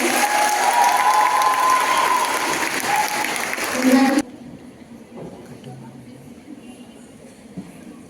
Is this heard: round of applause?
yes